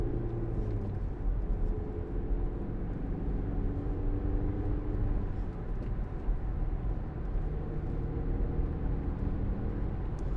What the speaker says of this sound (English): Just give it some gas.